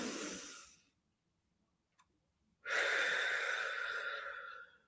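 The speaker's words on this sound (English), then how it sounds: "Blow out that candle." A child-size puff of breath blows out a pretend candle, a brief airy gust that fades, followed after a pause by a longer, stronger steady blow, both close and alone.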